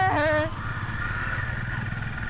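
A vehicle engine rumbles steadily nearby on a forest road near Agumbe, coming right after a brief horn-like tone at the start. It keeps a low, even drone with no talk.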